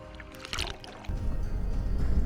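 Turbulent water of the Kern River rushes in a dense, continuous roar that swells louder partway through, close by and with no talk over it.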